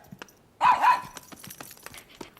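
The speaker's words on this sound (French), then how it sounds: "Viens me voir, mon petit chien." A small dog gives a short double bark up close, followed by light yips and faint scuffling in a quiet cartoon scene.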